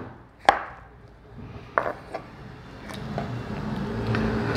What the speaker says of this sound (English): Now we're gonna cut these things in slices,